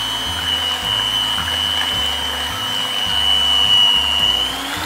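Electric mixer whirring at high speed while mixing a durian ice cream base, a steady high-pitched motor whine over a rhythmic low churning, close and continuous with no talk.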